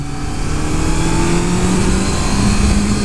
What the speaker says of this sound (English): Wow, once you rev it, it'll go.